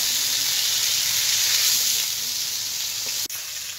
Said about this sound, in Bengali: এবার আস্তে আস্তে উল্টে পাল্টে আমি সব কপিগুলোকে ভেজে নেব।